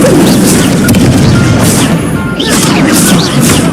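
Incendio fire spell being cast in Hogwarts Legacy, a dense crackling whoosh of flame with sharp crashing bursts layered over continuous loud game noise.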